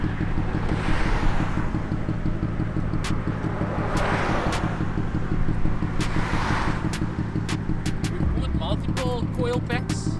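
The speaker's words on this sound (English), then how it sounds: "like now I drove it like super hard, then it does a bit of a miss" BMW E36 328i with the M52 straight-six and straight-pipe exhaust, driven hard, giving a steady loud rasping engine drone throughout with occasional sharp pops and cracks; a person speaks over it.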